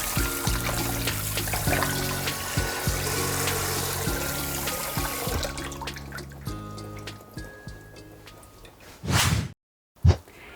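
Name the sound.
water running while rinsing beef short ribs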